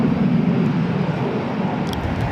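A Southwest jet at LAX gives off a steady, loud broadband roar of aircraft engines at idle during pushback, heard continuously from fairly close with no speech over it.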